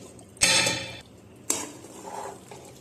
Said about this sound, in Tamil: ஒரு கிண்டு கிண்டி விடுங்க, எப்படி இருக்குன்னு பார்க்கலாம்